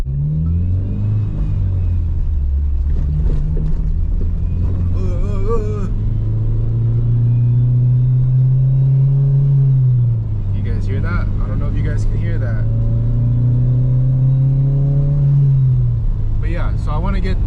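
An Acura RSX Type-S engine rumbles under a rising, sustained whine that climbs twice as the car accelerates from a red light, with intermittent higher-pitched noises over it.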